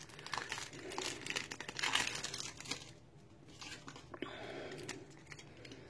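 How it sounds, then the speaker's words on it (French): Crinkly plastic of a Yu-Gi-Oh collector card pack wrapper being crumpled and torn open by hand without scissors, close and fairly quiet, in several bursts with brief pauses between. "j'ai trouvé la petite astuce pour ouvrir le paquet"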